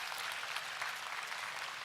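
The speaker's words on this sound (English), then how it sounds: "Give them a nice big round of applause here" Spectators at a purebred breeding ewe show in an indoor arena clap for the sheep exhibitors, a steady, fairly faint round of applause from a crowd with no pauses.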